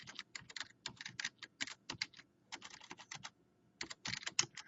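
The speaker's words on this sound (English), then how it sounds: "you just have to type it in" Rapid keystrokes on a computer keyboard enter a veterinary medical record, coming in close, irregular bursts separated by short pauses, with no talking.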